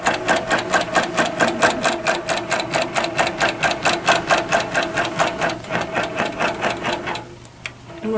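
An Innova quilting machine bastes a quilt, its needle running in a steady, rapid, even chatter up close for about seven seconds before it stops.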